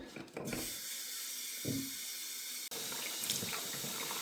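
Tap water runs steadily into a 5 litre camping water bag, a close, continuous rushing splash with a brief pause partway through before the flow resumes.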